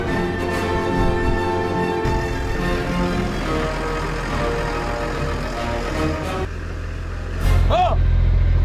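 A vehicle on a farm, driven for the first time by someone without a licence, hums with a steady tonal engine drone as it accelerates. The drone shifts and thickens near the end, with voices talking over it.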